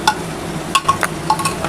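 Chicken being stirred with masala in a pressure cooker for capsicum chicken kosha, giving a few light scrapes and clinks of a spoon against metal, close and fairly quiet, with no talking.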